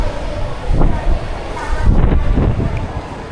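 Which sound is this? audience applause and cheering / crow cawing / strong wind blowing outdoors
strong wind blowing outdoors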